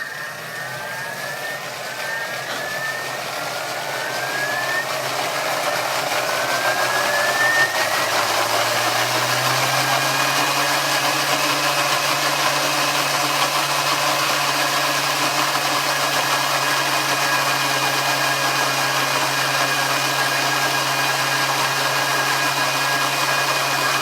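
A kitchen blender on speed 10 builds slowly, its motor pitch sliding upward over several seconds before holding a loud, steady whirring drone that continues unbroken to the end.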